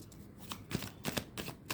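Tarot cards shuffled in quick bursts, several short papery riffles close to the microphone, no talking.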